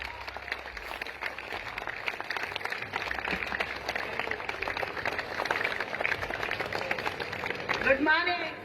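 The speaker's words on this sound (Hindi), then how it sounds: "खड़े होकर के एक बार जोरदार तालियां" An audience claps and cheers at an indoor gathering, a sustained, moderately distant patter of many hands that rises a little near the end as a voice starts to speak.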